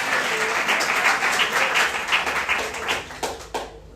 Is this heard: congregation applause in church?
yes